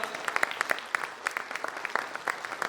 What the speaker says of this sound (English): Let's give a huge round of applause, everybody.